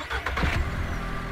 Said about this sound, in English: So now we have a turbo effect and a turbo sound.